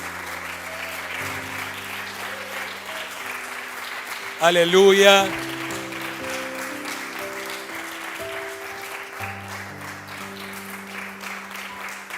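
A church congregation claps steadily through a Sunday service, with sustained music and singing voices underneath and a brief shouted exclamation partway through.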